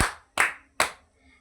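Three sharp, close hand claps in a classroom clapping game, evenly spaced about half a second apart, each a crisp burst that decays quickly, with no voices over them.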